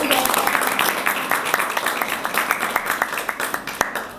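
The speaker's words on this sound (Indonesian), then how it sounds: "Tepuk tangan dulu dong" Applause from a school audience at an Islamic New Year talk show, a steady patter of clapping with rhythmic accents, loud and close, lasting a few seconds.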